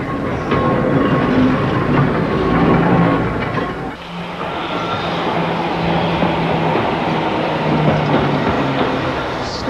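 An electric mountain railway tram on the Snaefell Electric Railway, Isle of Man, rumbles along the rails nearby with a steady clatter and humming motor, a brief dip midway before the running noise resumes.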